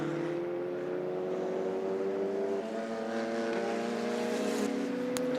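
A red Ferrari 488 race car works around the track, its engine a steady, fairly distant drone, with a higher tone shifting in pitch midway as it passes.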